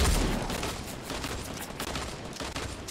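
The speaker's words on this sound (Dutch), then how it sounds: "Ja, schiet ze naar beneden, jongens, op de onderkant nu." Dense, continuous gunfire from the Fortnite Battle Royale video game. Rapid overlapping shots roll on without pause for the whole stretch, loud and close, with no talking.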